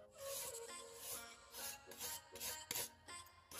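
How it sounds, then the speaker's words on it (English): Charred soft wood is scraped off a shou sugi ban bedframe, giving faint, close rasping strokes in an uneven rhythm of repeated passes, with no talk. "we're scraping away the soft wood and leaving behind"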